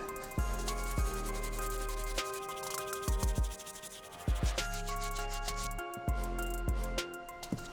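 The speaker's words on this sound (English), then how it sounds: "Hopefully the brass bristle, we get better results." A brass bristle brush scrubs the midsoles of a 2008 Jordan 12 Taxi sneaker, giving repeated close rasping strokes in uneven bursts with short pauses between them.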